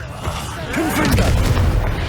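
Confringo fire spell exploding in the video game Hogwarts Legacy on PS5, a booming burst with crackling debris layered over game music and effects, sustained and fairly loud for about two seconds.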